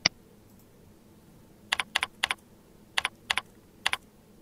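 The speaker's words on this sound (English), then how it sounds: "Then type your message in the body field." Bursts of computer keyboard typing as an email message is entered, a single key click followed by several short clusters of two or three quick keystrokes, close and fairly quiet with no talk.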